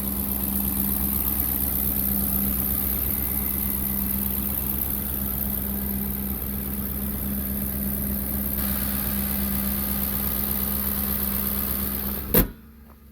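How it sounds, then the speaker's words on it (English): A 2008 Ford Expedition engine idles steadily with the hood open, a close, even low hum and drone that runs unbroken until a short knock near the end. "So here's the motor running."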